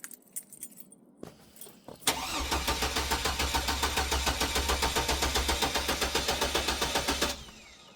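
A Hummer H3 with a busted exhaust starts up after some jangling keys, then idles loudly and close by with a steady, rapid pulsing chug and no talk over it.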